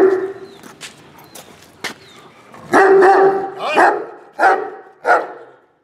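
Bully Kutta dogs from Kashmir, Pakistan give four or five loud, close barks in the second half, following quieter yips and a faint voice early on.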